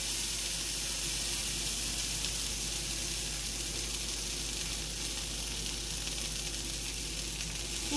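Beans sizzle in a hot pan as they are poured in for tacos, a steady, close, continuous crackling hiss that holds evenly throughout with no talking.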